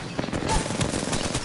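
Rapid submachine gun fire in an online battle royale video game, a dense rattling burst under a low background hum, loud and close.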